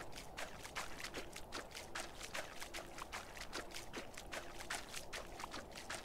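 Water sloshes and splashes in repeated quick strokes as a character swims in the Medieval Dynasty game, a soft rhythmic series of small wave slaps heard quietly with no one talking.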